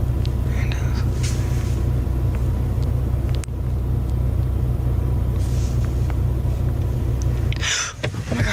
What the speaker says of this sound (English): As the car slowly reverses